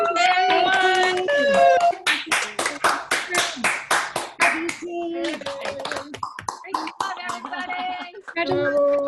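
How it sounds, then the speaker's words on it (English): Scattered hand claps from people unmuted on a video call during an awards reception, a rapid uneven patter of claps mixed with cheering voices that stops and restarts. "If anyone wants to unmute and join us in clapping, we'd love it."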